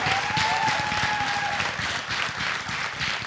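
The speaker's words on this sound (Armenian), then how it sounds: "Հրաչ Քեշիշյանի ծափահարություններ" An audience applauds for director Hrach Keshishyan, a dense, steady clatter of many hands that holds at full strength for the whole stretch, with a faint tonal whistle sliding briefly above the clapping.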